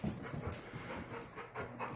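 A dog whimpers and pants quietly nearby, soft whines and breathy puffs coming in uneven bursts at low volume with no one speaking.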